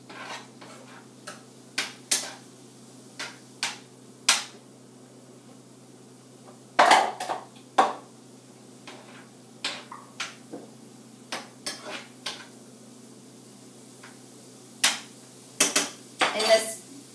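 A spoon stirring peppers and onions in a pot knocks against the metal, making crisp, irregular clinks and taps that sound close and sharp, with quiet gaps between the bursts.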